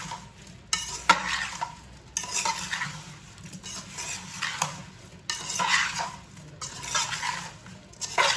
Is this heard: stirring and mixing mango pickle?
yes